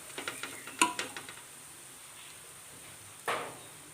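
Tomatoes dropped into sizzling spice masala in a pan for tuna fish biriyani: a cluster of quick clinks and scrapes, then a low hiss and one later stirring scrape, fairly faint.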